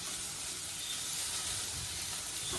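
Wheat pasta frying over a high flame gives a steady, close sizzle and hiss that stays even throughout, with no talk.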